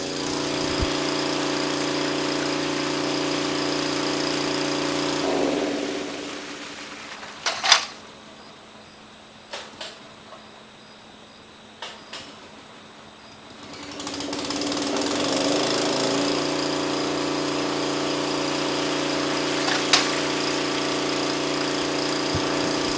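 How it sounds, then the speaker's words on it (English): A water pump engine fitted with a dead man valve runs with a steady drone, cuts out into near silence with a few clunks, then starts up again and settles back into a loud continuous hum. "I'm going to shut the pump off just for a second, let it drop back down. Then start it up again."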